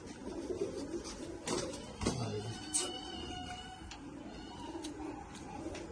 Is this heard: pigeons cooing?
yes